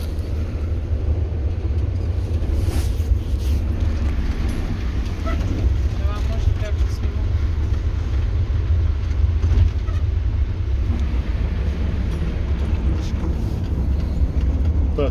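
A TU6A diesel locomotive pulls away slowly in second gear in winter, its engine a steady, loud low rumble throughout with faint mechanical clanks over the top.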